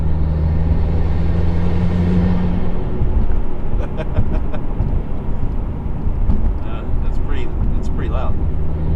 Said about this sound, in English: Listen to the intake.